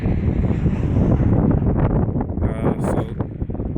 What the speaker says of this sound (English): I know it's a bit windy out here.